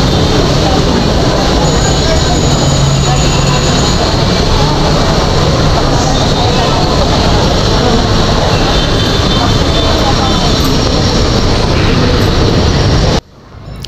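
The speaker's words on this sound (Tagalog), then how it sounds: "nandito po tayo ngayon sa ilalim ng LRT" An LRT train rumbles overhead beneath the elevated line near a Baclaran shopping mall, a loud, steady roar with rail clatter filling nearly the whole stretch before cutting off abruptly at the end.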